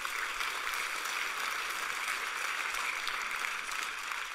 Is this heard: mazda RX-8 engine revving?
no